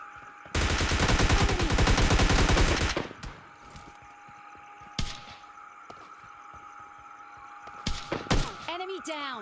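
Heavy automatic gunfire from a PUBG Mobile Lite duo match rattles loudly for about two seconds, followed by a few sharp isolated shots and thuds over background game ambience.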